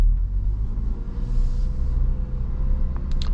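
A 2022 Ford Bronco Badlands with a manual gearbox pulls away in first gear, its engine a steady low rumble inside the cabin, with a brief higher-pitched hiss near the end.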